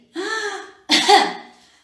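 Two close coughs from a person doing a lung breathing exercise: a rough burst followed by a louder, harsher one, near and clear with no talking.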